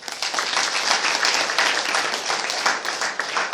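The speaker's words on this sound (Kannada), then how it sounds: "ದೊಡ್ಡ ಚಪ್ಪಾಳೆ ಬಸವಣ್ಣನವರು" A crowd claps in honour of Basavanna at a spiritual talk: dense, steady applause that fills the whole few seconds at an even level, with no voices over it.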